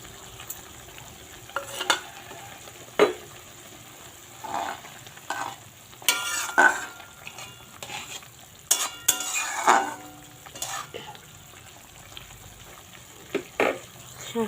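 Jute leaf curry is stirred in a pan with crushed fried lentil bori, soft scraping and clinking strokes in irregular bursts over a quiet low sizzle, with occasional louder utensil knocks.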